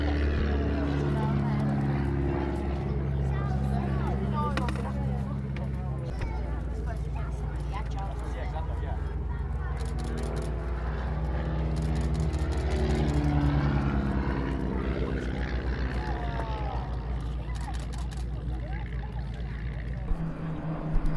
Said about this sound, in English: After that, there were 2 more biplanes, Hawker Nimrods.